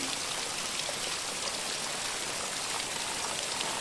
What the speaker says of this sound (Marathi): अजून चालूच आहे पाऊस एवढा पडतोय